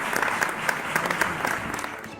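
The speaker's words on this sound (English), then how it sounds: "Can we give them a big round of applause" A seated audience at a Chennai business awards ceremony gives a round of applause, with bright, continuous clapping and distinct individual claps audible throughout, fairly loud and close, without speech over it.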